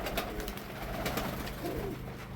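Mykolaiv pigeons in a loft with their first young of 2025 give soft, repeated throaty coos against a steady rustling background, close and moderately loud.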